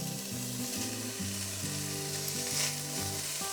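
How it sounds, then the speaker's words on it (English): Chopped bacon sautés in a pan for beans, giving a steady crackling sizzle with stirring scrapes, close and continuous without talk. "We're going to start off our beans by sauteing all that bacon we chopped up."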